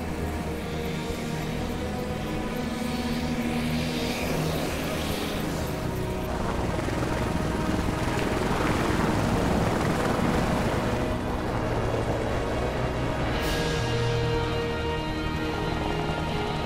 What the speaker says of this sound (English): Air ambulance is just taking off now.